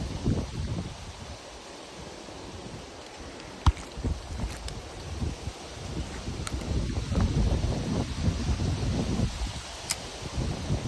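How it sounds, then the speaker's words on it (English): Wind gusts across river rapids during summer bass fishing, a steady broadband rush with rustling surges, occasional clicks and no talking. "This wind is not helping at all"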